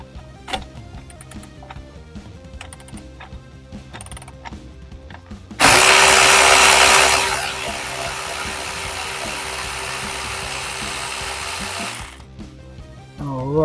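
A power tool runs loudly for several seconds while removing a bolt on a Jeep JK, starting with a sharp high whine, then a sustained buzzing drone that cuts off abruptly, amid quieter clicks and handling noises.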